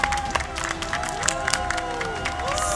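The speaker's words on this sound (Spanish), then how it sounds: "creo que debemos de darle un aplauso a todos los que participaron el día de hoy" An audience claps and cheers at an event for participants of a climbing experience, with scattered hand claps, shouts and whoops over a crowd murmur, fairly close and lively.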